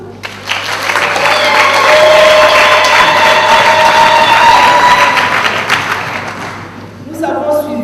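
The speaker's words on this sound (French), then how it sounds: "nous demandons de l'applaudir" A large audience at a women's month closing ceremony bursts into loud sustained applause with some cheering, swelling quickly and fading near the end before a voice returns.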